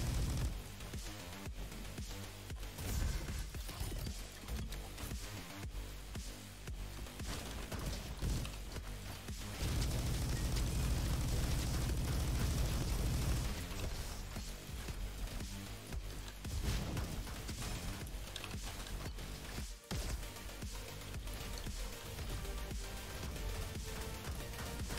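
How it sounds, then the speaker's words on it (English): Rockets explode in a chaotic shooter game, heard as repeated loud bursts and booms over dense, continuous gunfire and effects, with a heavy rumbling stretch in the middle. "That's some rockets."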